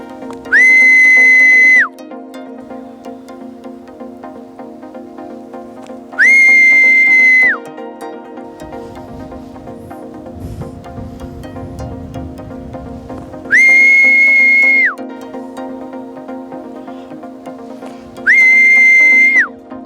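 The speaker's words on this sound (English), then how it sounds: "I'm still training him to associate the whistle to the food." A sharp, high whistle used in training a buzzard sounds four times at irregular intervals, each a sustained blast of about a second, over a steady low background hum.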